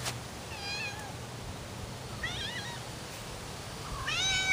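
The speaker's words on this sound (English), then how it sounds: "There's my kitty." A pet cat meows in a backyard vegetable garden, three separate wavering mews spaced a couple of seconds apart over faint outdoor background noise, the last one louder and closer.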